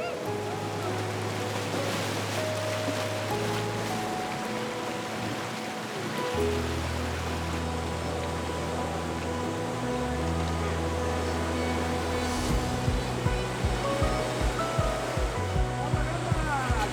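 Fast-flowing river water in the Okutama mountains rushes in a steady, dense roar throughout, with a low droning hum running underneath and a slightly rougher, louder texture toward the end.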